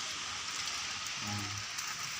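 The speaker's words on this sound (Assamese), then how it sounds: "এতিয়া বৰষুণ যে উঠি দিছে" Rain falls in a steady, dense patter heard from indoors, a constant hiss with a brief low tonal hum in the middle.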